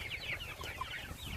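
Chickens cluck softly on an outdoor pasture, scattered short calls over a low background hum.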